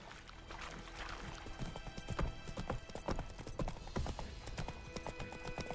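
Roach the horse gallops in The Witcher 3, with rapid, rhythmic hoofbeats clattering steadily throughout and a soft rumble of movement underneath.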